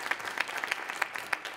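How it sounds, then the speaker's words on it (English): Audience applause at a California education policy event, a thin scattering of claps at a steady pace, fairly faint and distant, lasting only a moment with no speech over it. "Yeah, round of applause."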